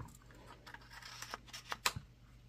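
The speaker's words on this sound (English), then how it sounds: "I am just going to go ahead and cut my top here first" Scissors cutting across the top of a paper tag for a vintage craft project, a few crisp close snips and paper rustles in quick succession in a quiet room.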